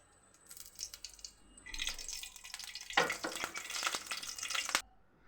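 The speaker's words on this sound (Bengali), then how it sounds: "এখন আমি কড়াইতে পরিমাণ মতো সরিষার তেল দিয়ে দিচ্ছি।" Mustard oil poured into a wok for a spinach stir-fry hisses and crackles, a close sizzle that swells for about three seconds and then cuts off abruptly.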